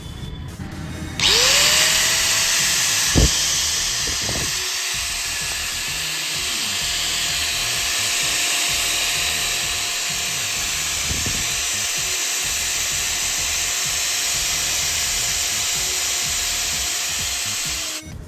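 An INGCO 4-inch angle grinder with an M10 thread spins up with a rising whine and then runs steadily at high pitch for the rest of the clip, loud and close, with a few brief knocks and no talking.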